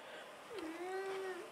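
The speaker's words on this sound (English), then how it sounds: "Hello, cat." Domestic cat giving one drawn-out meow with a slight rising start, faint and close, against quiet background hiss.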